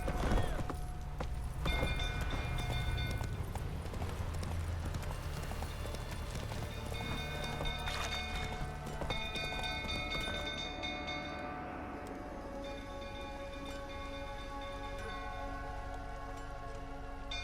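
A horse's hooves clop steadily at a gallop in The Witcher 3, a continuous rhythmic drumming close by across the whole stretch, joined by tonal ambient music and occasional faint voices.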